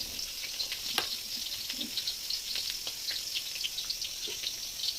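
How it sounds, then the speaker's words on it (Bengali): Pumpkin flower fritters fry in hot oil, a soft, steady crackling sizzle with a few faint pops and light stirring touches, heard at a modest distance with no voices. "আর এখন আমি মচমচা করে ভাজা করব"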